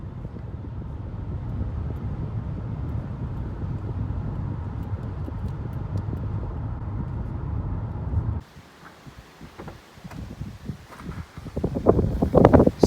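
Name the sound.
car driving, heard from driver's seat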